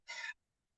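A voice imitates heavy, tired breathing with one short, breathy gasp, close and alone, then silence.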